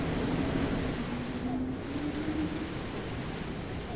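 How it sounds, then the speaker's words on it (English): Rain starting up as a rainstorm begins, a steady dense hiss of falling water that fills the space evenly and fairly loudly throughout, with no voices. "the rain's starting, so it's going to start getting a little bit loud in here from the rainstorm."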